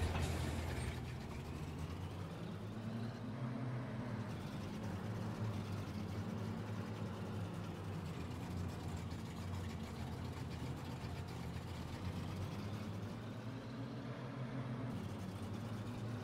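A ZIL truck driving with a cold engine in Farming Simulator 22, a continuous low engine drone with mechanical rattling, steady and fairly quiet throughout without speech.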